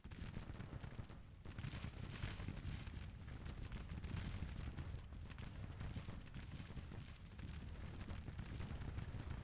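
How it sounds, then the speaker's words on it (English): Civil War artillery guns firing shell shot in the Grand Tactician Civil War strategy game, heard as a steady, dense, low rumble of battle noise that continues without a break, fairly quiet and distant. "Looks like I'm firing shell shot instead of the canister ammunition."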